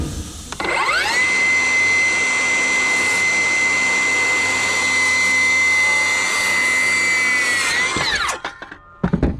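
Power saw ripping through framing lumber for a door opening, a loud steady whining cut that runs for about seven seconds before spinning down, with clatter as it stops.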